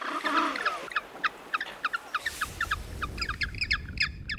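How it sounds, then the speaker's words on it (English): African penguins calling along a rocky South African shore, a rapid series of short, raspy squawking barks repeating steadily and fairly close over low background noise. "These penguins hop around the water and call one another in short, raspy barks."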